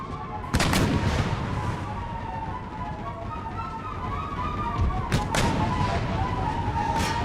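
12-pounder cannons firing in the battle game Empire: Total War: two loud sharp blasts a few seconds apart, followed by scattered musket crackle against a steady battlefield rumble.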